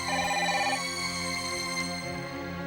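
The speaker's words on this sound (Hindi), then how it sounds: "उन्हीं का फोन आया होगा।" An indoor telephone rings loudly and steadily, its electronic bell tone repeating without pause for a few seconds, with no one speaking over it.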